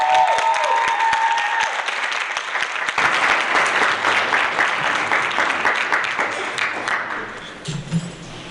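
A crowd at the 8th annual Langston Hughes poetry slam applauds a performer, a loud, sustained wash of clapping with faint cheers that tapers slightly near the end.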